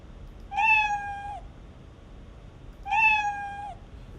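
A cat meow sound effect in a Unity survival game plays twice, two clear, drawn-out tonal meows separated by a couple of seconds of near silence.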